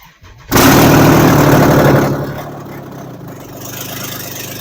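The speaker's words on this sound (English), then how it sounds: "I love the sound of open headers on a V6." A V6 engine with open headers cranks and fires, roaring loudly up close, then settles into a rough, throaty idle without any talk.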